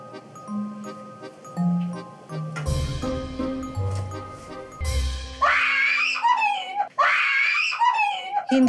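Screaming erupts during a prank on a Filipino TV show, as a woman shrieks in two sustained, high-pitched bursts near the end, after a stretch of quieter voices and whimpering sounds.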